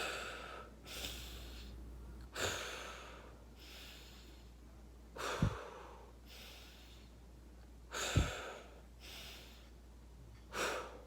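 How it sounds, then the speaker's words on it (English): Slow deep breathing, drawing air in through the nose and out through the mouth, about five long breaths evenly spaced over several seconds, close and fairly quiet with no talk. "In through your nose, out through your mouth, bro."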